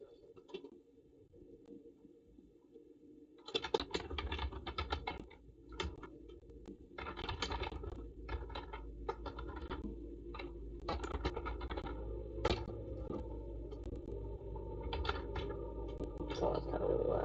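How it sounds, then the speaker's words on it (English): Rain patters after a quiet opening: dense, irregular taps and crackles set in suddenly and continue steadily and fairly close until the end. "More rain."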